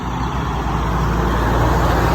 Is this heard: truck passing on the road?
yes